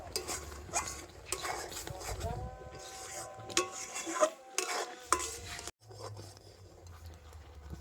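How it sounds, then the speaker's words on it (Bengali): Raw mango mixture being stirred with a couple of drops of green food colouring, making steady close scraping and swishing, with a voice faintly present underneath. "এইভাবে নাড়াচাড়া করে তো ফুড কালারটা ভালো করে মিশিয়ে নিয়েছি"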